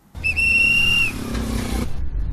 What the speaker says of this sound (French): Ce sifflet oriente les visiteurs de la foire au volant ou au guidon de leurs engins vers le parking